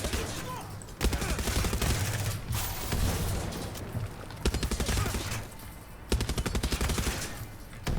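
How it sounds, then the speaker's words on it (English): A grenade launcher firing in the video game Far Cry 6 gives loud, rapid rounds in dense bursts of blasts, broken by short pauses and repeated across the stretch. "the rate of fire is much more better on this tiny grenade launcher than you would ever have on a rocket launcher"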